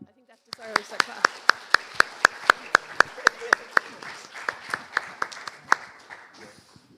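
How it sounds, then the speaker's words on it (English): Around twenty sharp, evenly spaced claps ring out in a steady rhythm at a client and community forum, close and distinct, then trailing off. "that deserves a clap"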